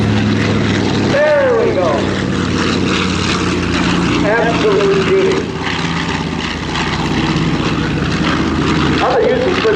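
A B-25 Mitchell propeller bomber roars past at an air show in a banking pass, its piston engines droning loudly with a rising and falling pitch as it goes by, while a commentator talks over it.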